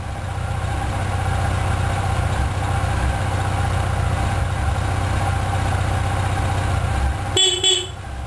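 A Yamaha FJR1300 motorcycle engine idles steadily with a low, even rumble throughout, then a brief horn-like toot sounds near the end.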